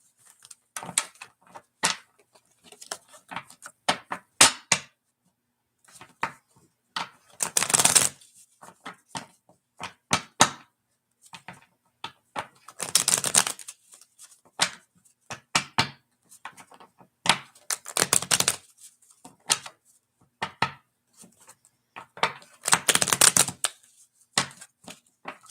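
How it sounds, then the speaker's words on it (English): Cards are shuffled up close in repeated bursts, quick riffles and crisp snaps separated by short pauses and softer handling clicks. "I'm shuffling for you now"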